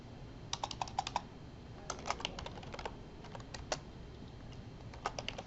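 Typing on a computer keyboard during layer work in Photoshop: quick clusters of light, close key clicks in irregular bursts with short pauses, over a faint steady room hiss, no voices.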